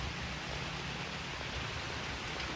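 Steady rain falling outdoors at a home in Palawan, a dense, even hiss of drops close by that holds at the same level throughout with no voices.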